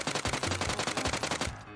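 Automatic gunfire in the mobile shooter game Peace Elite: one long, loud, rapid burst of evenly spaced shots that stops abruptly, heard alone.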